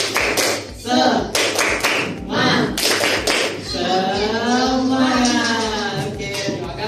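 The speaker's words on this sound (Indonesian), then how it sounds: "1, 2, 3, tepuk semangat" A class of children performs a rhythmic spirit clap, sharp claps in patterned bursts, mixed with chanting voices and a long sung or shouted vowel toward the end.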